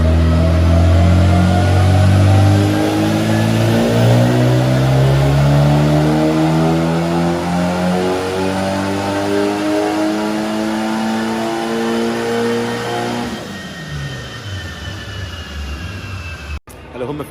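Mitsubishi Evo 7 on a dyno with injectors upgraded from 1000cc to 2000cc, its engine revving hard through a long sustained pull, loud and close, before dropping off abruptly near the end.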